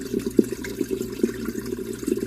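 Dishwasher filling with water during a cancel cycle, a low steady trickling hum with small gurgling pulses, fairly quiet and without voices.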